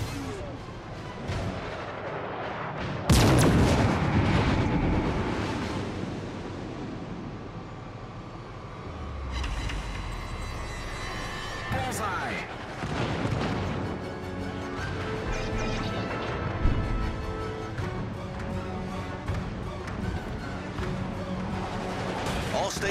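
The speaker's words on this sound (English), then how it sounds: "Concentrate fire on the enemy warship." Warship artillery booms in World of Warships: Legends, a heavy blast at the start followed by rolling rumbles and further explosions amid a dense, continuous battle din.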